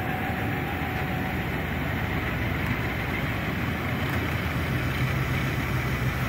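A Hardinge HLV-H lathe running at higher speed: a smooth, steady mechanical whir with a faint tonal hum, constant and close, with no talking.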